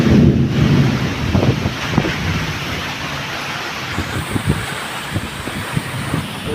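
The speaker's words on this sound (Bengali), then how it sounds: "এই যে প্রচুর বাতাস, প্রচুর বাতাস চলতে আছে। এই যে দেখছেন অনেক বৃষ্টি।" Strong wind buffets the microphone with low rumbling gusts while heavy rain patters in the background during a dark storm at a market area, loud at first and then settling into a steady roar with occasional thumps.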